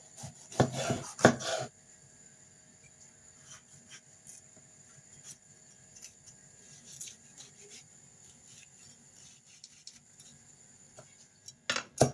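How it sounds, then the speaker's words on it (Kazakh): A knife chops vegetables for a farfalle salad, with a short burst of quick knife strikes against a board at the start, then a long quiet stretch of faint taps, and a brief burst of chopping at the end. "Енді осы көкөністерімізді тураймыз."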